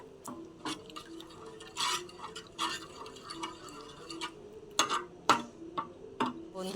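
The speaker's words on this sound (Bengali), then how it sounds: "তারপরে নেড়ে নিতে হবে আবার" A spoon stirs a wet spice mixture in a pan after bowl-rinsing water goes in, producing soft irregular scrapes, clicks and squelchy taps, close and moderately quiet.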